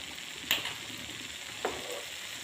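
Thin handvo pancake frying in oil, a soft steady sizzle at low level with two brief sharp clinks, no talking.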